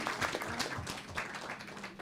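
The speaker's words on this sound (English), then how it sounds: "Give a round of applause" Worshippers at a Sunday temple program give a quiet round of applause, a soft, even clatter of hands heard from a distance for about two seconds, with faint voices underneath.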